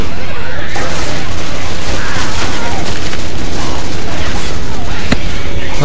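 Dense, loud, continuous gunfire and booming from Left 4 Dead 2 during The Parish campaign, a saturated wall of shots with a sharp crack near the end and voices mixed into the din.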